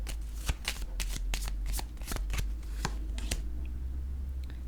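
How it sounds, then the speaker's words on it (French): Oracle cards are shuffled and drawn, a quick series of crisp riffling flicks, close and fairly loud, slowing toward the end over a low steady background hum. "Je vais piger une autre carte."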